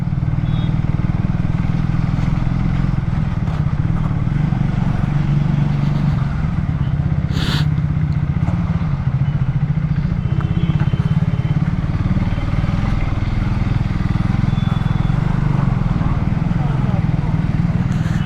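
A motorcycle rides through city traffic with a steady, loud engine drone and wind rumble, a brief clatter midway, while a rider talks over it.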